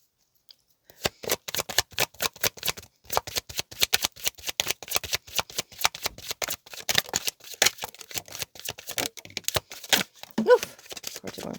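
Tarot cards shuffled vigorously by hand during a reading, a long run of fast, crisp riffling flutters with a few louder slaps as cards spill out, close and steady with no voice.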